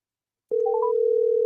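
A steady telephone dial tone starts abruptly after a short silence and holds on continuously as a call is placed, with a few brief tones dialed over it.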